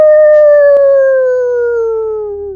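A human voice imitates a dire wolf howl, one loud, close, sustained tone with clear harmonics sliding slowly downward in pitch over a few seconds, alone without other talk.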